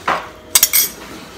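A spoon clinks and scrapes against a bowl while spices are mixed into fruit chaat, a few quick metallic taps and a short scraping stir, close and clear.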